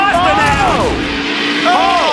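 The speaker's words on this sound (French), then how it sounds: "Et de grosses voitures." Big race cars roar past in a loud, continuous engine drone, with rising and falling pitch sweeps as each vehicle passes close by.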